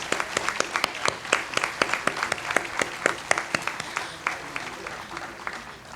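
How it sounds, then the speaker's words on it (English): Audience applause at a Juneteenth grand opening of the Harriet Tubman Museum, a lively burst of claps from a modest crowd, fairly close and steady for several seconds with no talk over it. "Let's have a round of applause for our new national holiday."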